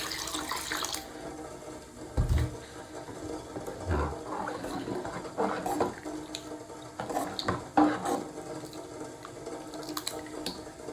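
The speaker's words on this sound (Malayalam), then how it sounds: "ആവശ്യത്തിന് കുറച്ച് വെള്ളം കൂടെ ഒഴിച്ചേക്കാം" Water is poured into a pot of sambar, a close, uneven splashing and gurgling with a few louder sloshes and knocks, fairly quiet overall and with no talking.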